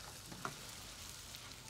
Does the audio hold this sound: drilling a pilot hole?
no